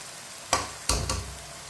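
Ground green chili paste hits a pan of cooking tomatoes and vegetables for tinday sabzi, giving two sharp sizzling bursts followed by steady frying and stirring, close and moderately loud with no talking.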